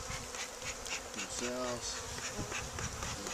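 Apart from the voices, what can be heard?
honey bees buzzing during hive inspection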